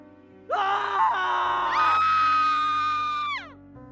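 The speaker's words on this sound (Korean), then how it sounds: "남자와 여자의 비명소리." A man and a woman let out ear-splitting screams in a horror audio drama; loud, overlapping sustained shrieks that swell and hold for about three seconds before cutting off abruptly.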